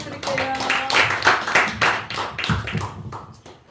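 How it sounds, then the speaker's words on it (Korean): Audience clapping at a literary talk concert, right after a poet is introduced: a burst of individual claps, fairly close and moderately loud, thinning out over a few seconds with a little murmuring voice. "박수 부탁드릴게요"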